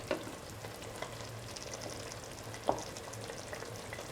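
Egg frying in a pan with cauliflower, a steady low sizzle and crackle with a couple of sharp pops, heard alone at moderate distance.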